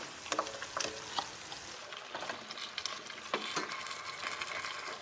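Onions, garlic and ginger frying in a pan for a Mauritian dish, a constant moderate sizzle punctuated by sharp stirring scrapes and clicks of a utensil, with no talking.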